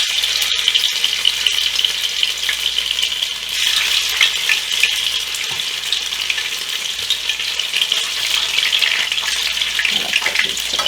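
Plain tofu pieces sizzle steadily in hot oil, a loud continuous broadband crackle and hiss that runs close-up for the whole stretch with small spits and pops, no voices over it.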